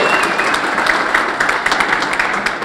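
Steady, dense applause from a large audience at an awards gala for Portuguese American of the Year, loud and continuous throughout with no break.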